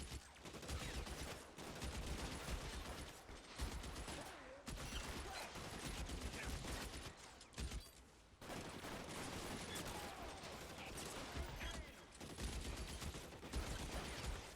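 Rapid bursts of gunfire in the video game L.A. Noire fill the scene continuously, loud and dense with brief gaps between volleys.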